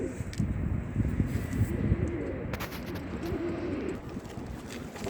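A stray blue pigeon cooing outdoors, soft low coos rising and falling over a constant rumble of wind and background noise.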